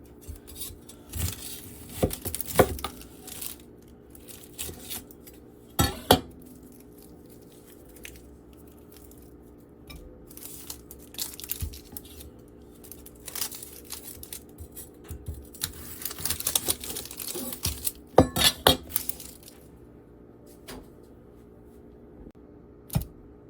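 A knife cuts open an onion in a kitchen, prepared for a German onion pie: sharp crunching cuts and scattered clicks against a board, with quieter stretches between bursts, close and fairly faint, no talking.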